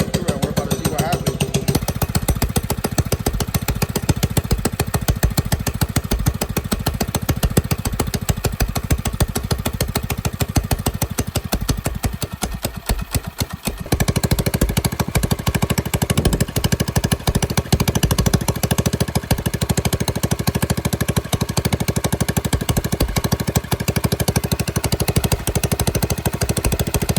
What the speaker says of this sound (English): right now the bike has been running for roughly about, I'd say like 3 minutes or so